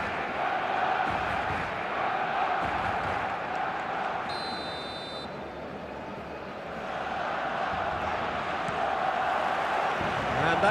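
A packed football stadium crowd in a video game roars steadily on match day, a broad, constant wash of distant cheering and chanting that swells slightly toward the end, with a brief electronic tone partway through.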